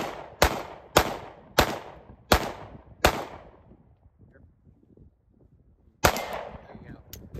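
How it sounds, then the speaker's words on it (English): Five sharp pistol shots at an even pace at a range with steel targets, loud and close, each with a ringing tail, then a pause before one more shot. "I'm gonna shoot a few more"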